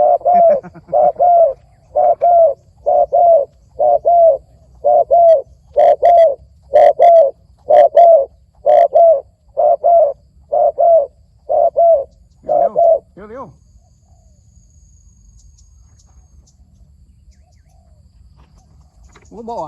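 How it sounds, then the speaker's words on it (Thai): Spotted dove cooing at a cooing contest, a long regular series of loud, close, rhythmic coo phrases that stops partway through, leaving a quiet background. "นกอาจารย์เจ๊งสุดยอดแล้วเนี่ย"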